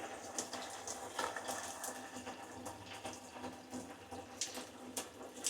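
A cruise ship balcony cabin shower on Carnival Radiance runs with decent pressure, a faint, steady hiss of spraying water with small irregular splashes throughout.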